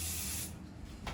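Undercoating sprays in a steady, close hiss onto the tailgate of a 1952 PD4103 bus, cutting off halfway and resuming with a short final burst.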